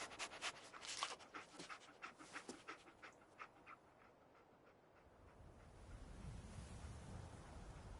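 Dogmeat, the dog companion in Fallout 4, pants in rapid close bursts for about five seconds, then the panting fades into a low windy rumble of game ambience.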